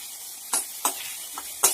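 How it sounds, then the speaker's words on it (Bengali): Fish oil with green chilies sizzles in a wok as it is stirred, four short crackling bursts over a faint steady hiss, close by. "কাঁচা লঙ্কা ছাড়ছি কড়াইছে মাছের তেলগুলো"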